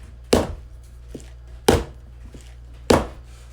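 A baking tin of pandan sponge cake batter is rapped against a hard surface three times, each a sharp, close thud spaced about a second apart, with quiet in between.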